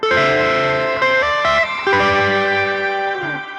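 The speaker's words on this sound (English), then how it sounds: "shimmer reverb for Insane." Electric guitar notes ring out through a shimmer reverb pedal with a bright, lingering, synth-like shimmer, sustaining into a soft tail.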